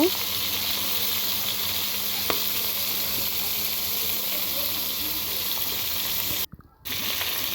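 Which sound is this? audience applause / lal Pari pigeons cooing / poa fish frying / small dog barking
poa fish frying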